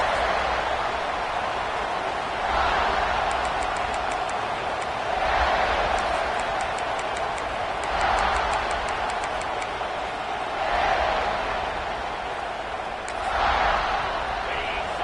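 In a college football video game, a stadium crowd roars in swelling waves every few seconds, rising and falling in loudness as a broad, distant wash of cheering with no commentary over it.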